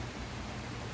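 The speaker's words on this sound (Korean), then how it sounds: "이렇게 비가 오고 있습니다." Heavy rain pouring down during a nationwide downpour, a dense, even hiss of falling water that holds steady through a short moment without any voice.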